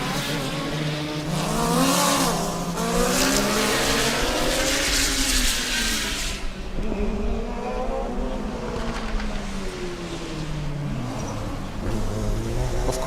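Formula Student race cars lapping an endurance circuit, engines rising and falling through gear changes with several passes, loud and continuous, a voice commentating over the engine noise in places.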